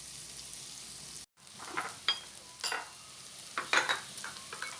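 Onions soften in a hot pan as a quiet steady sizzle, with a brief dropout early on and then several louder bursts of crackle as the pan is stirred, no voices.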